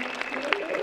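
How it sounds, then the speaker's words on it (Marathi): Audience at a school annual gathering and prize-giving ceremony applauding, a faint, steady patter of many hands with a tonal voice or music line running underneath. "सो मला वाटतं खूप जोराचा म्हणजे आपण टाळ्या वाजवूया"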